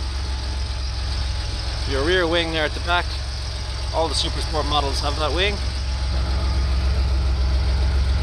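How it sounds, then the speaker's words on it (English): A Porsche 911 Supersport convertible with its soft top down idles steadily in a low, continuous rumble close by, while someone talks over it throughout. "Engine running."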